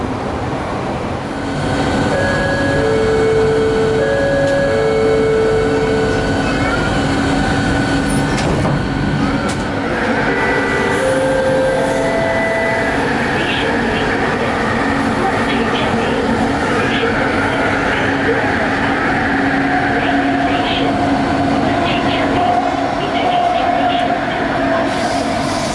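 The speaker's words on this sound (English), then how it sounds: "Here is the ride from the front view as the Pranajaya line train is driverless." A driverless Rapid KL LRT Kelana Jaya Line train in motion, with a continuous loud rumble of wheels and motors, tonal whines rising and falling as it accelerates, and occasional squeals along the track.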